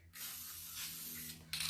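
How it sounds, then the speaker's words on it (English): Clear lacquer sprays from an aerosol can onto metal hardware: a steady, close hiss that runs without a break, with a sharper burst near the end and a faint low hum underneath. "So a coat of spray lacquer,"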